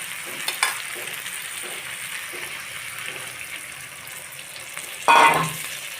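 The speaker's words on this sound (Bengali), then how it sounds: "এখন আমি এতে দিয়ে দেবো ঝোলের জন্য সামান্য পরিমাণে জল" Water poured into a pan of frying puti fish for gravy, a sudden burst of hissing and bubbling near the end that cuts through a steady sizzle of oil.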